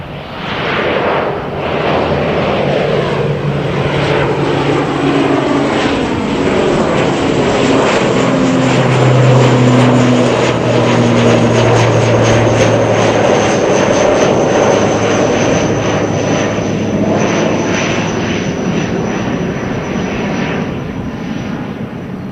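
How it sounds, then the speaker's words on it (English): ATR turboprop airliner taking off, a loud, steady propeller and engine roar with rising tonal whine that builds and holds across the whole stretch, heard from nearby at a plane-spotting location with no talking. "so this ATR is ready to take off already"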